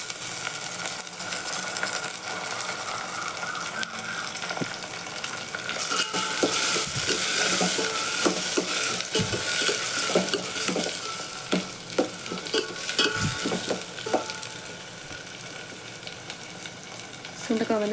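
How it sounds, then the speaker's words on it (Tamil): Turkey berries sauté in a pan with a continuous crackling sizzle, punctuated by repeated metallic spatula clinks and stirring scrapes, close and moderately loud. "சுண்டைக்காய் வந்து நல்லா வதங்கட்டும்."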